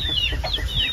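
Chickens cluck close by on a rural farm in the Philippines, a quick series of short rising calls over a steady outdoor background hum, with no talking in between.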